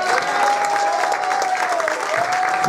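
Steady, close crowd clapping fills the whole stretch at a Central American independence gathering in Queens, New York, with a thin tonal sound and murmuring voices beneath the applause.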